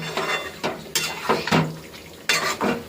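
Meat stirred and fried in a pan in a small home kitchen, with a spoon scraping and clinking against the pan in irregular strokes over a soft sizzle, close and moderately quiet.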